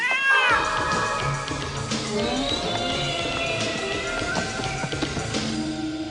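A cat meows, with a drawn-out wavering cry near the start followed by softer mewing under a busy background of other noises.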